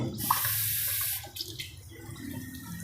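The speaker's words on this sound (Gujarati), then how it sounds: "હવે આપણે થોડુંક પાણી નાખીશું" About a glass of water is poured into a pan of cooked spice masala for Kathiyawadi dhokli shaak. A loud rushing pour lasts roughly a second, then drops to a quieter, low bubbling.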